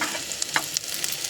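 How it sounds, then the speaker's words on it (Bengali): Sliced onions sizzle steadily in oil in a pan, fried until reddish-brown, with a few short clicks of stirring over the hiss. "তো আমার এখানে হয়ে গেছে পেঁয়াজ ভাজা।"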